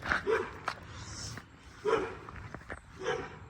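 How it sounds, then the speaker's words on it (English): Dogs bark in several short bursts close by, with yips spread over a few seconds and quiet gaps in between. "ignore those dogs"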